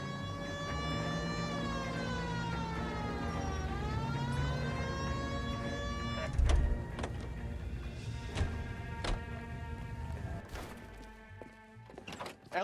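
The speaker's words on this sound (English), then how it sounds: "Hit the siren." Police car siren in L.A. Noire wailing loudly with rising and falling sweeps, then cutting off into clunks and door-like thuds, with a steady engine hum underneath.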